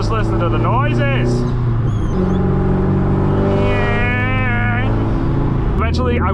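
Raspy, droning exhaust of a straight-piped Subaru STI during a drive, a loud steady engine tone rising and falling as the car accelerates, with people talking and laughing over it.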